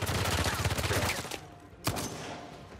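Gunfire in Uncharted 4: rapid, dense shots over the first second and a half, then a lull and one sharp loud report with a trailing tail, a voice faintly under it.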